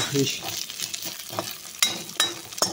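Dried sukuti fish fries in a pan with a bright hissing sizzle, punctuated by several sharp clacks and scrapes of stirring, heard up close.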